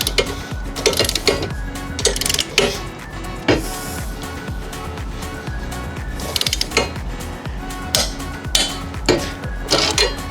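A ratchet tightens the bolt on a RambleSwing Pro hitch, with rapid clicking bursts in several rounds, close and clear with no talk.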